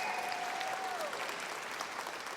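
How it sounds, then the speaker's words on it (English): A rally crowd at a state house event applauds the emcee, a soft, steady, dense clatter of many hands that holds evenly from start to finish. "a round of applause for Stephanie for emceeing the event"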